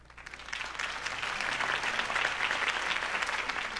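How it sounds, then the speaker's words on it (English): A crowd in a Batman video game applauds after a Harvey Dent campaign speech, a steady, moderately loud wash of clapping with a little cheering, rising quickly and holding over a low background hum. "If only Mr. Wayne, my campaign's largest backer, could have heard that applause"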